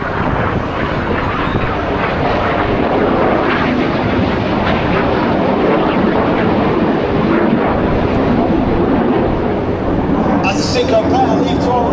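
Aerobatic jet aircraft in a Red Arrows-style display flying past at the Blackpool airshow, a loud continuous broadband engine roar that holds steady throughout, with crowd or commentary sound mixed in underneath.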